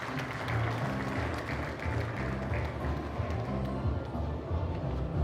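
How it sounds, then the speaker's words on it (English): A conference audience at the South African Funeral Industry Summit applauds a panel being welcomed, with a steady, moderately loud clatter of many hands clapping and a low hum underneath. "Let's give them a round of applause."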